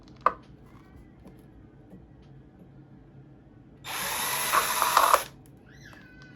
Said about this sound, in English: let's start off by drilling our holes in our cup